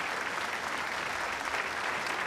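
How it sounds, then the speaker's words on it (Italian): Crowds applaud at the Republic Day parade on 2 June in Italy; continuous, even clapping from many spectators forms a dense wash of sound, moderately distant and without clear voices. "E c'è un applauso davvero"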